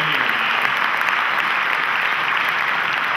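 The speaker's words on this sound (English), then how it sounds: "Give yourselves another round of applause for that." An audience at a Google Developer Day keynote in Buenos Aires claps in a dense, steady round of applause, loud and even throughout with no voices on top.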